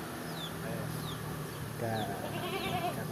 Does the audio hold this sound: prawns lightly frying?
no